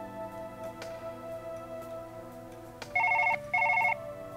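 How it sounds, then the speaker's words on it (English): A phone rings in the surgery game Surgeon Simulator: two bright electronic ring bursts near the end, over a steady hum of game sound with no talk. "Go away, phone."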